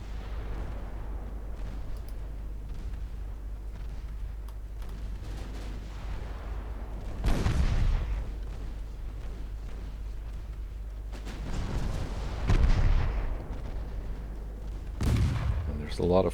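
Naval main guns and secondary batteries firing in a battlecruiser engagement against a convoy in Ultimate Admiral Dreadnoughts, with several heavy booming salvos rolling out over a constant low rumble, spaced a few seconds apart.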